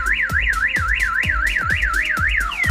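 An alarm siren on an electric fence wire system installed in Sambrial, Sialkot, Pakistan sounds during a test: a loud rapid warbling wail repeats about four times a second over regular low thumping pulses.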